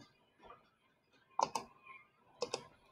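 A computer mouse is clicked and a keyboard key is pressed to delete an object in Blender: two quick pairs of sharp, close clicks in an otherwise quiet room.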